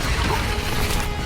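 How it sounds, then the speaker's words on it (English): Confringo explosive spell in the Hogwarts Legacy video game, a loud crackling blast with broadband smash and rumble filling the whole short moment. "Confringo!"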